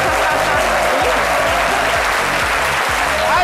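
Studio audience of a French midday TV game show applauds loudly, a continuous dense roar of clapping over a rhythmic background music beat, with no voices on top.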